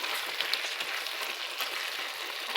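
Okra stew with beef, bell pepper, chili, celery and tomato paste crackles and sizzles steadily in a pot as it is mixed, a close, even frying hiss with faint scattered pops and no talking.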